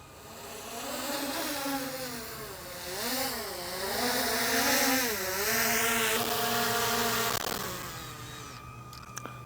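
A DJI Neo drone hums loudly in flight, its whining buzz bending up and down in pitch as it maneuvers and descends, a steady close rotor drone that shifts tone before easing off near the end.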